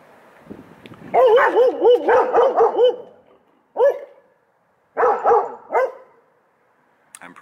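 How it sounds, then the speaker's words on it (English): Pet dogs bark close and loud in a quick run of yips and bow-wows, then pause and let out a few more separate bursts of barking. "Now I have dogs, and the dogs are helpy."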